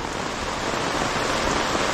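Steady rain pours down outdoors near a garden, a dense, even hiss of drops hitting surfaces with no break, loud and close.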